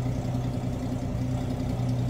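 A 1969 Ford Mustang coupe's 200 inline-six engine idling, a steady low rumble with an even pulse throughout the short stretch, no voices.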